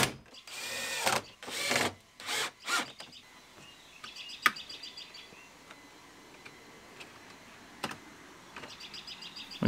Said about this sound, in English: Bolt in our door panel.